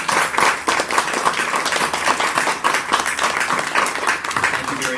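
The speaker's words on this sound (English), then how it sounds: "please give a round of applause to not only our panelists, but the DeKalb Dems" An audience at a candidate forum gives the panelists a lively, uneven round of applause, loud and close, with individual claps standing out throughout.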